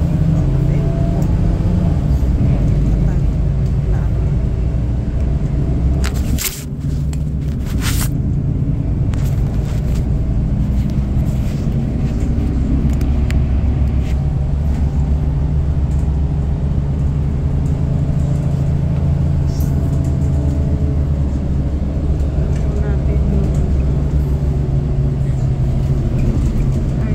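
Rush-hour road traffic heard from inside a vehicle near a bridge, a steady low rumble of cars and buses with engine drone and a brief louder passing noise, continuous throughout.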